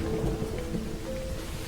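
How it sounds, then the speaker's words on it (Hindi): Steady soft rain falling, with a continuous hiss of drops and a low rumble underneath, quiet and unbroken throughout with no voices. "बारिश की बरसती बूंदों ने"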